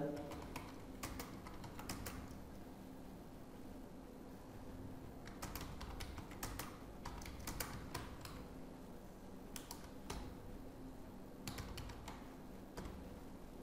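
Keys clatter on a computer keyboard as Hindi text is typed into MS Word, quick bursts of close, crisp clicks separated by short pauses, with faint talk underneath at times.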